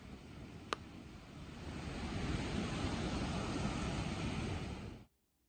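Ocean surf breaks along the shallow water and jetties at Bolsa Chica State Beach, a steady rushing wash that swells louder midway and then cuts off abruptly, with no voices.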